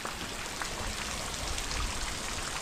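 Steady rain falls outside during a monsoon ride in Dapoli, Konkan, a dense continuous patter of drops on surfaces, moderately close and unbroken for the whole stretch with no voices.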